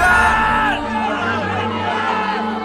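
A crowd shouts loudly, many voices yelling together at full volume, with a sharp surge at the start before settling into a sustained, dense roar.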